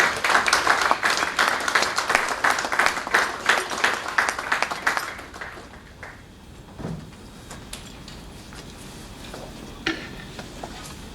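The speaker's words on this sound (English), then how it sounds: "A round of applause for him, please." Audience applause after a speech at an aviation careers conference: dense clapping from a hall that fades after about five seconds into a few scattered claps and faint room noise.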